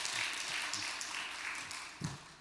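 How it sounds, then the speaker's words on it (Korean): A lecture audience applauds, a gentle, fairly distant wash of many hands clapping, with a low voice briefly heard near the end. "박수로 전해드리겠습니다."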